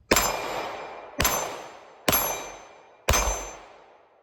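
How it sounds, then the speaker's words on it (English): Four evenly spaced shots from a rifle fitted with a Sig Romeo RS Pro sight, each a sharp crack and metallic ring as the round strikes the target, decaying before the next. "let's put a few rounds through it, make sure it's all sighted in"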